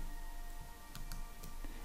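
A few sharp keyboard and mouse clicks, an option key pressed and a click while working in InDesign, quiet and close over faint room hum.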